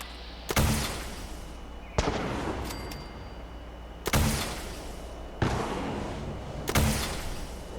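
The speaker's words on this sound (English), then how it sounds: "This dude just jumped up and started shooting." Gunfire from a Raider Thief in Fallout 76: five sharp, loud blasts spaced one to two seconds apart, each trailing a long rumbling decay, with no talking.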